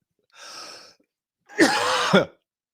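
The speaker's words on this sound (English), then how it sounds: "just talking put that cough back in me" Two coughs from one person, a softer one followed by a louder, harsher double-burst cough, close and with no other sound around them.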